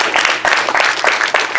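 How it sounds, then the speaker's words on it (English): An audience at a December 2022 future leaders mixer breaks into applause, a dense, lively clatter of many hands clapping close by without a break. "And I think we should give you all a round of applause."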